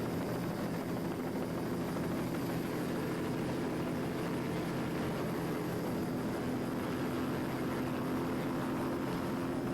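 A 1991 Activator powerboat with a single 550-horsepower inboard engine races past, producing a steady, dense engine roar that holds loud and unbroken for the whole stretch.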